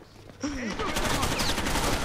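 Gunfire in the Rainbow Six Vegas 2 video game rattles in a dense, sustained burst that starts abruptly and keeps going loud, with a brief voice sound just before it.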